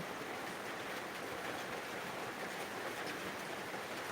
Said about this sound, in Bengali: সন্ধ্যা নাগাদ থেকে বৃষ্টি শুরু হয়েছে কিন্তু কখন থামবে কেউ বলতে পারছে না